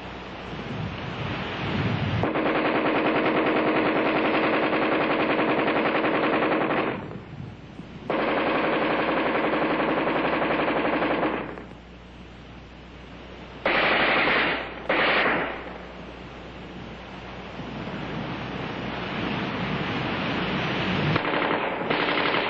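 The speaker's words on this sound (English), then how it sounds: "offhand firing against a man-sized target at combat range, the AR-10 is in a class by itself" Armalite AR-10 rifle firing at a man-sized target at combat range: long, dense bursts of automatic fire roaring continuously, broken by brief pauses and short volleys, loud and sustained.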